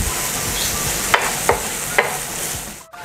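Sliced onions for a spring roll filling hit a frying pan with garlic, giving a steady sizzle, three distinct clacks of a utensil, and an abrupt dip near the end.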